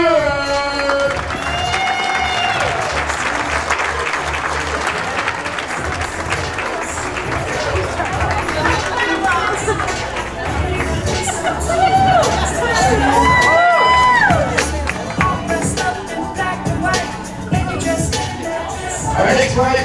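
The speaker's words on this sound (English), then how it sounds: "give us some applause, ladies and gentlemen, for Brandy Switzer and AJ Hillier" Wedding guests cheer and applaud in a loud, dense burst of crowd noise, with whoops and shouts rising over steady clapping for the couple, swelling again near the end.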